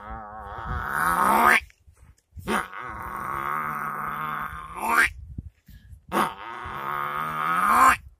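A boy imitates a buffalo with his voice, three long, deep, groaning bellows that rise at the end, loud and close, separated by short pauses.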